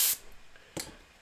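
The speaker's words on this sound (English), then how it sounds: "Now it'll spray much better." Two short bursts of airbrush spray, a sharp hissing puff at the start and another a moment later, close and fairly quiet.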